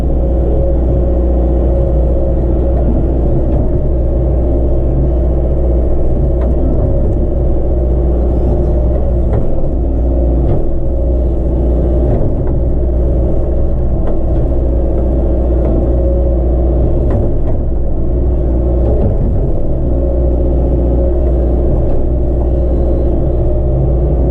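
Hydraulic excavator engine working steadily while clearing the foot of an embankment so a truck can pull closer: a loud, continuous low rumble with harmonic hum and occasional load changes, heard alone without talk.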